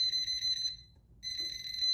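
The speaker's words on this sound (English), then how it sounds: "you can hear that they beep because they're coming into the system" Steady electronic beeping from a breaker panel as circuits come into the system, a loud high tone that cuts out briefly in the middle and resumes, heard alone at close range.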